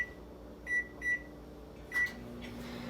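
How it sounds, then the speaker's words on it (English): An 1100-watt microwave oven running on high, a low steady hum under three short bright beeps from the control panel, heard close and alone. "my microwave's an 1100-watt microwave"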